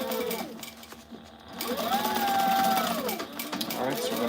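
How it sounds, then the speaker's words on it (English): Sewing machine running at its top speed, a steady fast mechanical whir and rattle with a rising and falling motor pitch, close by, with a person talking over it. "this is as fast as this machine will allow me to sew"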